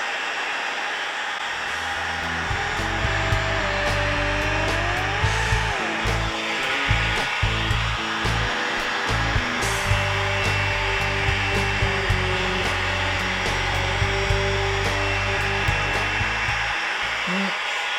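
Heat gun blowing hot air to heat seal a corner of paint protection film on the hood of a 2025 Rivian R1T, a steady airy roar running throughout with light rubbing and handling noises over it.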